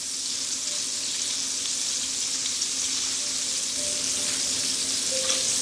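Vegan chickless chicken pieces frying in hot oil give a steady, close, even sizzle that holds throughout with no talking.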